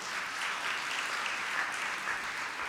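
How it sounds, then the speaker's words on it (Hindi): A Catholic church congregation in Lahore claps during a Lenten Sunday Mass homily, a steady, even wash of applause at moderate distance with no talk over it. "जरा ताली एक दफा बजा दें"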